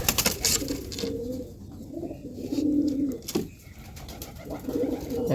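Pigeons in a loft coo in repeated, throaty bursts close by, with short pauses between calls and some faint background rustling.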